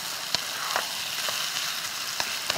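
Burdock japchae stir-fried in a pan with oyster sauce and sesame seeds sizzles steadily throughout, with a few sharp clicks of utensils against the pan and no talking.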